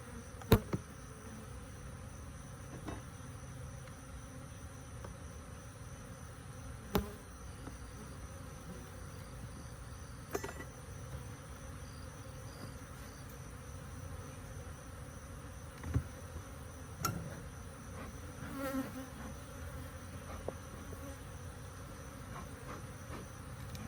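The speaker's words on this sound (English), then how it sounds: "They're pretty rough bees." Angry honey bees buzz in a continuous low drone close by, with occasional sharp knocks and bumps breaking through.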